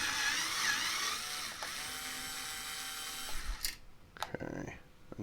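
An electric screwdriver whines steadily at close range as it backs a long fastener out of a Tesla inverter, then stops, followed by a few clicks and handling noises.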